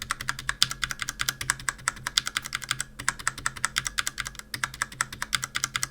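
Fast, steady typing on a Fnatic Streak mechanical keyboard fitted with O-rings, a close run of crisp, dampened key clacks in even rhythm with a couple of brief pauses.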